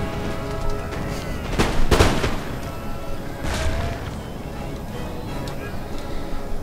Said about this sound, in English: this guy is being hit by cannon fire